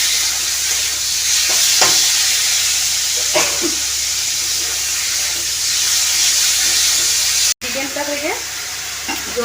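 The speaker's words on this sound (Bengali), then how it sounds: "চিকেন কিমা দিয়ে দেবো কষিয়ে নেব ভালোভাবে" Chicken mince sizzling in a pan with spices while being stirred, a continuous loud fry with scraping strokes of the spatula; a brief cut near the end, then the sizzle resumes.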